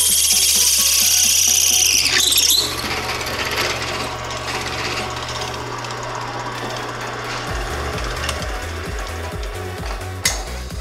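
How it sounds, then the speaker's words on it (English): A drill press bores through hard material for a baseball bat modification, giving a loud, continuous, grinding roar with rough, uneven chatter as the bit bites and struggles. "It is legitimately scary drilling through this stuff."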